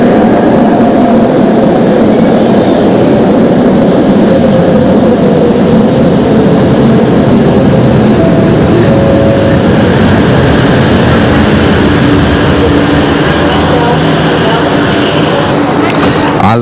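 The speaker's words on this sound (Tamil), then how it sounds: "இந்த வருது பாருங்கள், இதுக்கு பேர் தான் வந்து எல்ஆர்டி ட்ரெயின்." A Malaysian LRT metro train rumbles steadily close by for the whole stretch, loud and broadband, with brief squealing tones as it rolls into the station, under a busy platform crowd.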